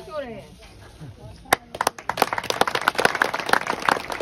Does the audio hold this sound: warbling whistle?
no